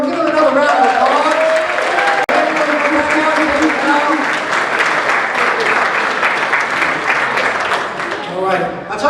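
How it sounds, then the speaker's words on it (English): A live magic show audience in Atlanta gives a magician a loud round of applause. Dense clapping fills the whole stretch, with scattered cheers and voices mixed in. "Hey, Dan Garrett, we will give him another round of applause."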